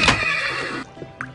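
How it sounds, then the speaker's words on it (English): Horses in the video game Minecraft neighing loudly, one long close whinny followed by a shorter snort, heard alone. "Those horses are loud."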